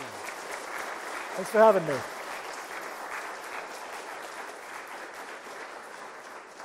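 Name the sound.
audience applause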